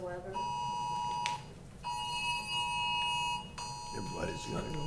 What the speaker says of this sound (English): Yeah, tornado warning in the area.